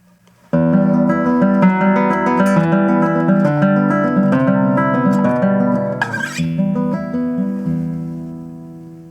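A guitar plays the first section of a fingerpicked etude: evenly plucked notes in a steady rhythm, ending with a quick slide down to an open E that rings and fades out, clear and close with no talk.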